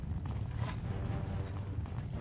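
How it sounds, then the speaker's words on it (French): Horse hooves clip-clop steadily alongside the shuffling footsteps of marching troops in a medieval siege video game, a continuous dense rhythm with no talk. "les bruits de pas qu'on entend de toutes les troupes"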